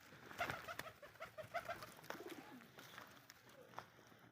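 Pigeons kept alongside rabbits coo softly in a backyard coop, several low, rolling coos repeating close by with faint rustling and background murmur of people.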